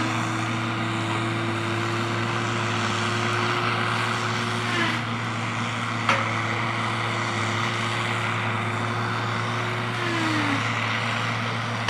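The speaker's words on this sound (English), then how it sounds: "We'll get some video of the rubber tire working." A rubber-tired Tigercat feller buncher works in thick brush, its diesel engine droning steadily with a rising and falling tone and occasional sharp cracks from cutting.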